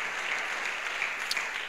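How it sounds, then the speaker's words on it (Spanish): A church congregation at a Pentecostal service gives a loud, dense round of applause, steady and unbroken for a moment, with no speech over it. "Fuerte el aplauso al Señor."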